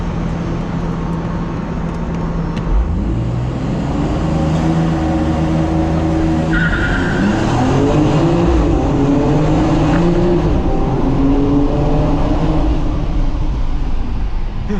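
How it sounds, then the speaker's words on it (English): A 2022 BMW X3M Competition makes a launch-control start under a bridge, its engine swelling from a steady drone into a loud, rising acceleration roar with pitch climbing through the gears, heard from inside the car. "Do a launch control under the bridge."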